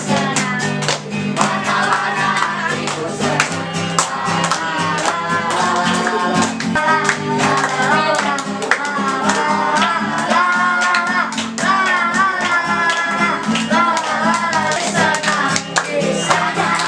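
Children sing a cheerful Sunday school song in a busy, echoing room, with steady hand claps running under the voices throughout.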